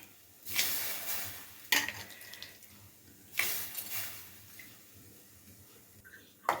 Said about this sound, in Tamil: இப்போ ஜவ்வரிசி போட்டு நல்லா கலந்து விடுங்க.